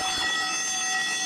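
A school fire alarm ringing steadily, a loud sustained electronic tone with high harmonics, unbroken throughout the short stretch.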